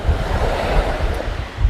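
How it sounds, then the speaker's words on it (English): Wind gusts steadily along the seashore at Rasdhoo in the Maldives, a loud broadband rush with low rumbling buffets, blended with surf washing in close by and no voices. "It's a bit windy today."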